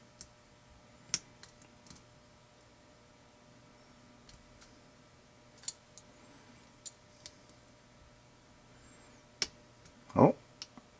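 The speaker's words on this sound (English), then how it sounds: "Click at a pin 4." Faint, sparse metallic clicks and ticks from a pick working the pins of a 20-year-old American lock, with scattered light taps and one louder scraping rattle near the end over a quiet background.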